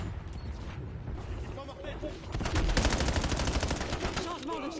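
Call of Duty Warzone gunfire rattles in fast continuous bursts of shots that grow louder midway, mixed with game effects and a voice talking underneath.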